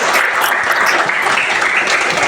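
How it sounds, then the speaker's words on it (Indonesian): An audience in a madrasa classroom or hall claps steadily and loudly throughout, a dense, even burst of applause with no pauses. "Naza, tepuk tangan untuk Naza."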